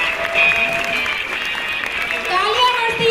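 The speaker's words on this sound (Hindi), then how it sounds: "तालियां बजती रहनी चाहिए दोस्तों।" Audience applause at a Modicare business seminar hosted in a stadium, a steady sustained clapping that stays fairly loud throughout, with music and voices mixed faintly underneath.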